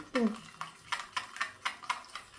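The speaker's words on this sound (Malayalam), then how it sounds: "ഉണക്കമുളക് പിന്നെ നമ്മൾ ചതച്ച് അരിഞ്ഞു വെച്ച കരിയാപ്പ് കുരുമുളകും കൂടെ ഇടണം അത് ഇട്ട് അത് ഇട്ട് നല്ലതായിട്ട് ഇളക്കണം" Dried red chillies, crushed curry leaves and pepper stirred in a pan, giving a quick run of rhythmic spoon scrapes and clinks about every quarter second, close and clear over a faint background.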